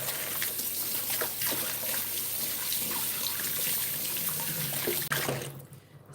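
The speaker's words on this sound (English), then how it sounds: "So I'm going to wash my hands." Steady running water from a tap as hands are washed in a kitchen, a continuous broadband trickle and splash lasting several seconds, close and even, then cutting off abruptly near the end.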